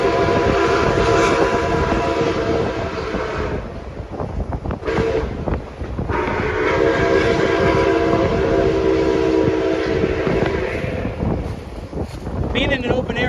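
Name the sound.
steam locomotive whistle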